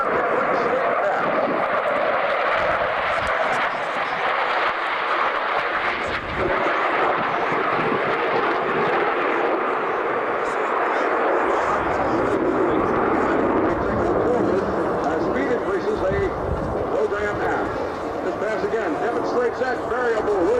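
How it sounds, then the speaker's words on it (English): F-14 Tomcat jet with variable-sweep wings flying a slow roll at about 350 mph at a 1995 warbirds airshow, a loud continuous engine roar that swells and shifts, with an announcer speaking over the public address throughout. "Demonstrates that variable wing sweep of the F-14 Tomcat with a slow roll of 350 miles an hour."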